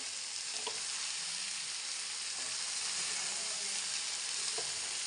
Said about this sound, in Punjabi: ਚਲੋ ਜੀ ਆਪਾਂ ਇਹਨਾਂ ਨੂੰ ਮਸਾਲਿਆਂ ਨੂੰ ਚੰਗੀ ਤਰ੍ਹਾਂ ਮਿਕਸ ਕਰਦੇ ਆਂ